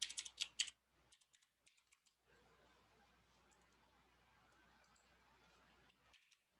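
Typing on a computer keyboard: a quick burst of key clicks at the start, then a few scattered faint taps over quiet room noise and another short burst at the end.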